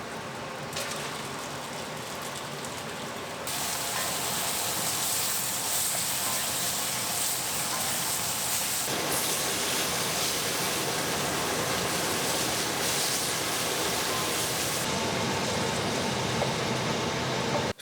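A Fotile 7505 range hood runs on its intense stir-fry setting, producing a loud, steady roar of rushing air that holds unbroken for the whole stretch, close by and with no voices.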